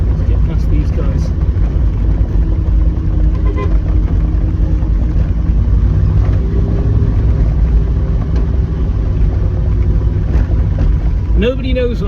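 Jensen Healey V8 engine droning loud and steady while driving, a constant low rumble with brief rising revs near the end, speech mixed in over it.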